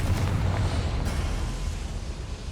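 Confringo blasting spell erupting in the Hogwarts Legacy video game, a heavy booming explosion that rolls and rumbles continuously, loud and close, without any voices.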